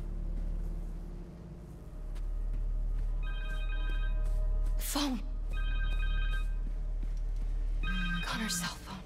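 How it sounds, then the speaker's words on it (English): A cell phone rings in the Spider-Man 2 video game, repeated electronic ring bursts over low rumbling game ambience, with a voice speaking between the rings. "Phone. Connor's cell phone."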